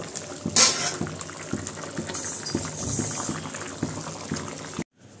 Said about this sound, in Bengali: তো ঝোলটা ভালো মতো ফুটে গেলেই নামিয়ে নিব